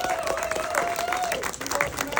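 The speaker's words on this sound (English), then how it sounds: "Everybody give Magic a huge round of applause" A crowd at a photography summit applauds as a guest is called up, sustained clapping heard under an ongoing voice that carries across the clip.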